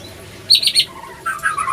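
A white-rumped shama gives a few bright, quick whistled phrases close by, two short bursts of chirping separated by a brief pause.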